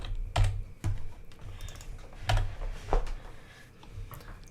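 Fingers type on a computer keyboard, close and clear: quick runs of clicking keystrokes in several separate bursts with short gaps.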